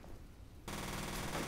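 Gunfire in the video game F.E.A.R. starts abruptly after a quiet moment and continues as a sustained, fairly faint rattling burst to the end.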